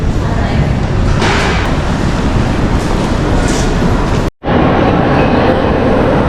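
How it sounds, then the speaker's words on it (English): A Toronto subway train rumbles loudly and steadily with dense broadband rail noise, briefly cut by a sharp dropout, with people talking faintly underneath. "So we're taking the subway for the first time"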